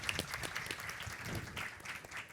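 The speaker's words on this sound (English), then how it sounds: "Another applause." Audience at a business and child rights panel event clapping for a presenter, a faint, distant patter of applause from a modest crowd, steady and brief.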